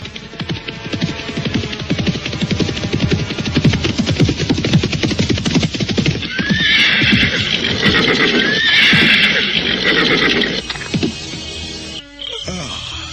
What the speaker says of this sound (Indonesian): ketiga orang itu dikejutkan oleh seekor kuda yang berderap dan kemudian berhenti di halaman rumah itu